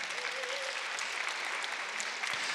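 A church gathering of ministers welcomes a pastor with steady, dense audience applause filling the whole stretch, a continuous wash of many hands with no letup.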